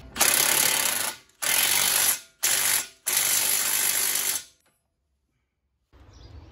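Bursts of a power tool tighten a 22 mm bolt on a 2013 Chrysler 300 lower forward control arm. Four loud, close, buzzing runs with short pauses stop abruptly, followed by quiet.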